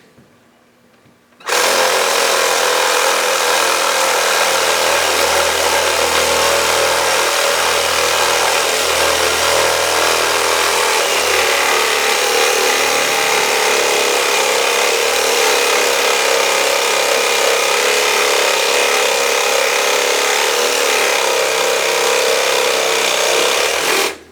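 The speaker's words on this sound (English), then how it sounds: "cutting out the sawzall" A reciprocating saw cuts through a pork carcass in one continuous loud, buzzing run of about twenty seconds, starting abruptly after a quiet moment and holding a steady, harsh whine close by.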